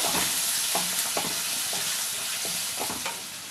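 Ginger and green chili paste fries in hot oil in a cabbage and lentil dish, with a steady sizzle and repeated soft scrapes of a spoon stirring in the pan.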